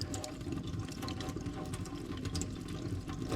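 Steady rushing of hot water pouring onto a glass wine bottle being cut in half, a continuous splashing hiss that stays at an even level throughout.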